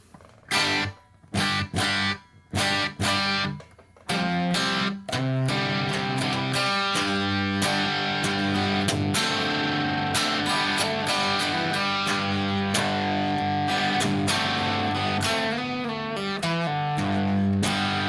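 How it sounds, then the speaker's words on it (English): An electric guitar plays a chord-heavy riff with a short echo, starting with choppy stabs and then ringing continuously, loud and up front. "I just have a little slapback echo on here to make it sound like I'm in a room"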